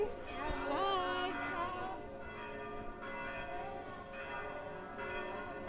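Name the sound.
church bells ringing in Rome at noon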